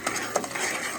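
A spoon scrapes and stirs makhana halwa with sugar caramelizing in a pan, giving quick, irregular scraping strokes over a soft sizzle, close and fairly loud, with no talking.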